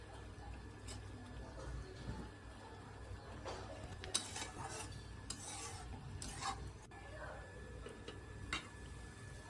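A spoon scrapes and rubs against a pan while Kashmiri aloo dum is stirred after sugar goes in. The clinks and scrapes are soft and intermittent, with faint background noise.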